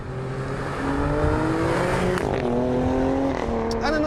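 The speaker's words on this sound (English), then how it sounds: "This is my favourite sounding high-performance SUV." Alfa Romeo Stelvio Q high-performance SUV engine and exhaust, a loud continuous revving note with rising and falling harmonics, close and steady throughout, with a brief shift in pitch midway.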